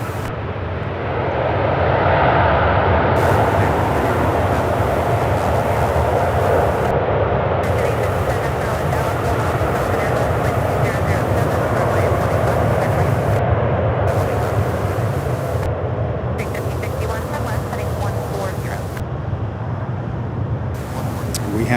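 A jet airliner lands at Charlotte Douglas airport, its engines a loud, steady broadband roar sustained throughout with a slow swell early on, heard from nearby with no talk.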